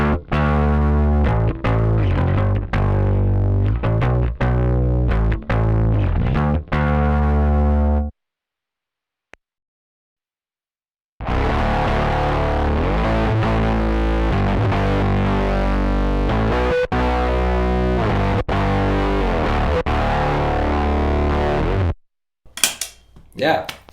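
A bass guitar runs alone through a micro synth effects pedal, giving a thick, fuzzy, heavily distorted line with sharp plucked attacks, two long loud passages split by a brief silence.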